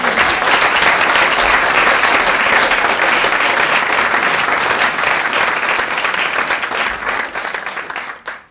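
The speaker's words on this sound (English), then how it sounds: "Let's give her another round of applause." Loud, full applause from an audience for poet Patience Agbabi at a Refugee Tales event: a thick wash of clapping held for several seconds before tapering off and cutting out.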